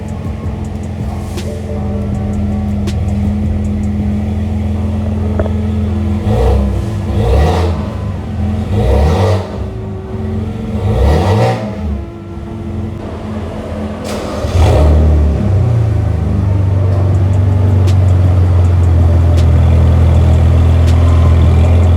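A BMW 325i LCI with a custom exhaust idles with a deep burble, then revs sharply several times in quick bursts before settling back to a loud, rumbling idle.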